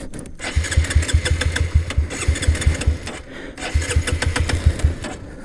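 A motorcycle engine cranks and fires in repeated loud, close bursts, catching and sputtering in two runs with a short gap between, sounding slightly flooded as it struggles to start.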